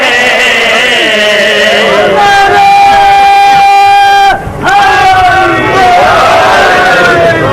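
A crowd at a Shia majlis gathering in Multan raises hands and chants the Naara-e-Haidari slogan, a loud massed roar of voices with sustained pitched shouts, briefly dropping off near the middle before surging again.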